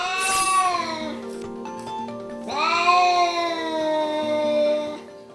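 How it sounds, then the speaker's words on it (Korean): An angry cat yowls loudly at a door, letting out two long, strained caterwauling cries that rise and waver, close and forceful with no other sound competing. "아무도 없는 문을 향해 목이 터져라 울어댑니다"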